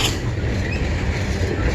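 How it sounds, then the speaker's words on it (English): A CN M382 freight train rolls past in Kimball Township, producing a steady, loud, continuous rumble of wheels and cars with no break over the short span. "this should be the last train for today"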